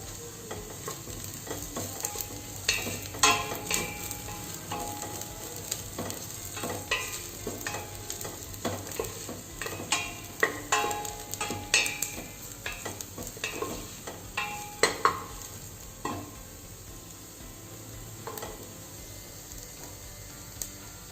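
Chopped onions and curry leaves fry in a pan of oil for Tamil arisi paruppu sadam (dal rice), giving a steady close sizzle broken by frequent scraping stirs of the spoon.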